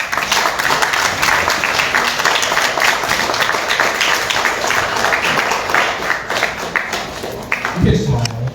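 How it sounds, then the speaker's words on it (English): An audience at the 2022 Guam Medical Association gubernatorial debate breaks into sustained, fairly loud clapping that rolls on steadily, with voices mixed in beneath it. "Let's give them another round of applause."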